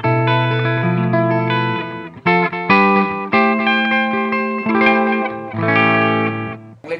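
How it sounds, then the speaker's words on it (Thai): Electric guitar played through an Aalberg Audio Ekko+Areo wireless digital delay pedal: clear, bright chords and picked notes ring out in phrases, each trailed by crisp repeating echoes, loud and up front with no talking. "ลักษณะเสียงที่ออกมาเป็นเสียงดิจิตอลดีเลย์นะครับ"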